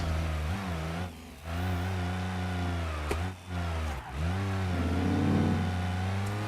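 A car engine in the driving game BeamNG.drive revs steadily, its pitch dipping and climbing between a few throttle changes, loud and close with no talk over it.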